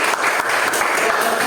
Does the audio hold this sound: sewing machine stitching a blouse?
no